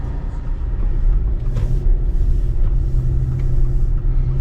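Car driving on US Route 33 East toward downtown Ripley, West Virginia, heard as a steady, loud low road rumble and engine drone from inside the vehicle, continuous throughout with no speech.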